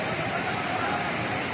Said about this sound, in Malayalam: ഈ വീടിൻ്റെ അങ്ങേ ഭാഗത്തു കൂടെയാണ് പുഴ പോകുന്നത്